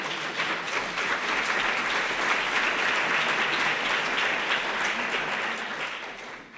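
A conference audience breaks into sustained applause at the close of a session, dense and steady clapping throughout, tapering slightly at the very end.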